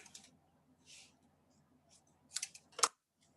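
Paper is snipped with scissors for a stamped card craft, with a few quiet, crisp cuts in an otherwise hushed room that build to a sharper double snip near the end.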